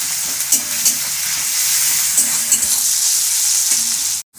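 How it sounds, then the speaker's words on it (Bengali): Green chillies, onion and garlic frying in hot oil, giving a steady close sizzle throughout with faint stirring scrapes and a brief drop-out near the end; no talking. "দুটো কাঁচা লঙ্কা, পেঁয়াজ, রসুন দিয়ে ভালো করে ভেজে নেব।"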